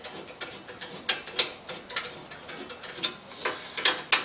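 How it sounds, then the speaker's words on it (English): A wrench ratchets a bolt into place while a metal rack is installed, giving a close, rapid run of small metallic clicks and ticks in an irregular rhythm. "Wrench in there, get it in place,"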